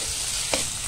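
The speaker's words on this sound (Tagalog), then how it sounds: "Halu-haluin lang po natin siya hanggang maging brown ang ating baka." Strips of sirloin beef sizzle and fry in a pan while being stirred, a steady close crackle with one brief scrape of the utensil partway through.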